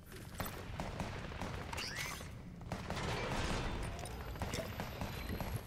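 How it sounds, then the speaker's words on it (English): Bursts of Fortnite video game gunfire crackle faintly in the distance as a steady fusillade of scattered shots and clatter, quiet and muffled under a low background hum. "I hear a lot of commotion, gunfire commotion."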